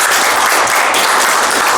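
Loud, dense applause from an audience at an event as an official is invited to the stage, sustained and even with many hands clapping at once.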